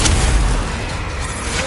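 A Bombarda blasting spell explodes in Hogwarts Legacy, a loud deep boom at the start that rolls off into a rumbling decay, with no talking.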